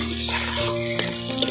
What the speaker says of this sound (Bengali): চিকেনটা অনেকটাই কষানো হয়ে গেছে